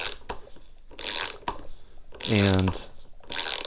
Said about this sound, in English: And we'll switch to the ratchet drive.